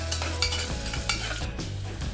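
Loud, steady sizzling of ginger and garlic frying in hot ghee, with a few scraping stirs of a spoon against the pan.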